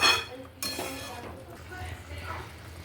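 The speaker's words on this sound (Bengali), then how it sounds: "এরপর ডাঁটাটা মিশিয়ে নেব।" Boiled potato and vegetable stalks being stirred together in a cooking pot, with scraping, clinking utensil sounds against the metal, a sharp clank early on, and a soft sizzle underneath.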